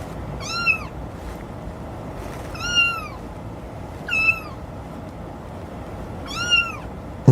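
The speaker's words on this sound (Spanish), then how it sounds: "Un gato." A cat meow plays as a custom lock sound on an XPENG G6 car, repeating four times at intervals of a few seconds over a low steady hum. Each meow is clear and close.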